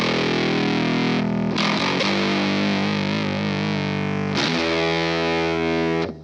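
An electric guitar played through a fuzz distortion pedal, with thick buzzing sustained chords, a couple of abrupt changes and a bending note, loud and close with no talking.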